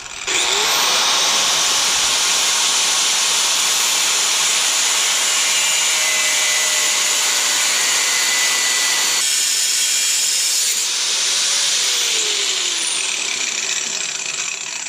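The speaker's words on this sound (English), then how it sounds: "we're simply just going to cut that with an angle grinder" Angle grinder cutting through a stock steel control arm (A-arm), a loud, continuous high-pitched whine and metallic shriek that holds steady for the whole stretch, close up.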